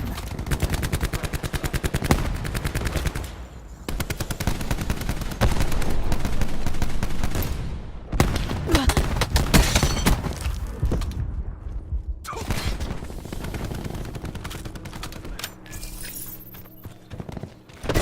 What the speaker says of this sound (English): Enjoy the rest of this gameplay with the MX-9 on Contraband